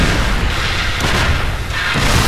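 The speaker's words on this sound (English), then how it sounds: "High ground cannon. Boom." A high ground cannon fires in the StarCraft 2 video game, giving a dense, heavy, continuous booming blast that fills the whole moment loudly, with no voices over it.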